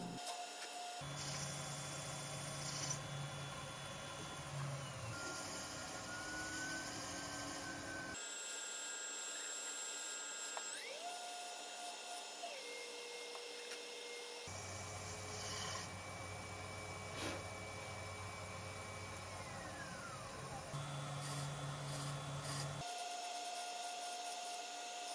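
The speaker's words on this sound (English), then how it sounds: "it was time to go ahead and move forward with cutting all of the seats to the full depth on both of the blocks" Valve seat cutter machining engine block seats to full depth, a steady whirring tool drone with a high tonal whine, running in long stretches broken by short pauses between cuts, alone and fairly close.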